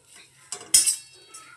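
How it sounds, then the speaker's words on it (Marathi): Spatula clanks against a pan while spices are dry-roasted for homemade black masala, with two or three sharp metallic knocks close by and quiet scraping between them. No voices. "आपण हा काळा मसाला करतोय त्यामुळे हे मसाले आपल्याला व्यवस्थित भाजून घ्यायचे."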